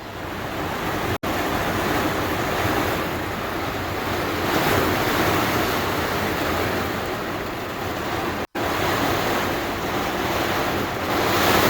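Heavy rain pours down in a steady, dense roar, broadband and loud throughout, with two brief dropouts.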